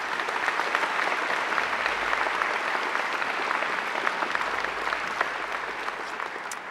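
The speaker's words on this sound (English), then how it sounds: "I think she deserves a great round of applause." A graduation ceremony audience gives sustained, even applause, a dense wash of many hands clapping that holds steady for several seconds with no talk over it.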